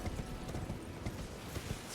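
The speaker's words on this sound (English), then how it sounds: "Just trying to drive while riding a horse." Horse hooves gallop in the video game Elden Ring, a steady clip-clop rhythm of repeated beats running under a dense, noisy game soundscape with no talk.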